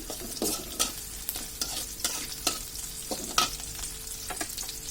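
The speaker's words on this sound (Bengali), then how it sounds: "এখন হালকা একটু নেড়ে চেড়ে নিচ্ছি" Egg roti noodles with chopped onion and green chillies stirred in a frying pan, a series of sharp spatula scrapes and clinks over a soft sizzle, close and irregular, no voices.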